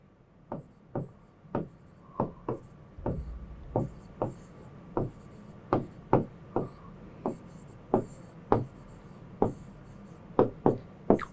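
Marker or chalk strokes on a classroom board tap and scrape in a steady series of short, crisp, close strokes with brief pauses between words, with no talking.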